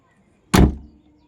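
A single solid thud as the boot lid of a Maruti Suzuki Alto 800 shuts, close and loud, after brief quiet and followed by a short fading rumble.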